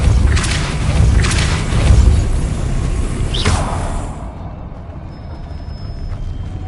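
A Depulso spell cast in Hogwarts Legacy, heard as a heavy booming thump with a whooshing burst over dense game ambience, then a brief swish before the sound thins into quieter background.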